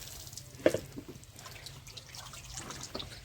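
A buffalo drinks from a water trough outdoors in summer, giving soft irregular slurps, drips and trickles up close, with one louder splash near the start.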